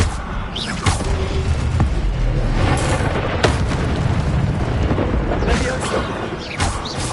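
Fire spell cast in the video game Hogwarts Legacy, heard as repeated booming, whooshing bursts over a dense, loud game soundscape, with several sharp blasts spread through the clip.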